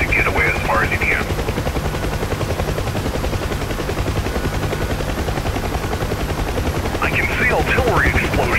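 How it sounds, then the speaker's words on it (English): Artillery fire in the DCS UH-1H Huey helicopter simulator: a constant loud roar of rotor and turbine runs throughout, and sharp blasts burst out near the start and again near the end over the steady drone. "Artillery explosions."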